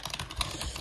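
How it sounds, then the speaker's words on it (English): Typing on an old Logitech computer keyboard, a grandfather's hand-me-down: a brief, close run of quick plastic key clicks at a steady rhythm. "My keyboard, it's kind of my grandfather's old Logitech one"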